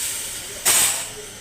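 Water poured into chillies and spices frying in a hot pan for a chana daal recipe, giving one sudden loud sizzling hiss that flares up and slowly fades, with no talk over it.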